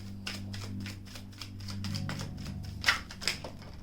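Tarot cards riffle and flick in a quick, soft series of papery taps, close and quiet over a low steady hum, ending with two sharper snaps.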